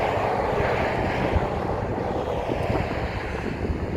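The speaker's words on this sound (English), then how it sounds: "When these cars all go past," Several cars, about five or six, passing on the Warwick Highway, heard as a steady loud rushing roar that hardly varies, with gusty wind noise and no talk over it.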